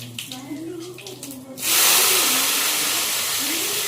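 Chopped onion hits hot oil already holding cumin and asafoetida, bursting into a loud, steady hiss of sizzling that follows a voice.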